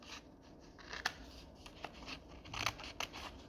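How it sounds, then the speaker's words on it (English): Scissors snip through a paper stencil in a few quick, close cuts, with crisp paper rustling between the cuts and no talking. "just using scissors."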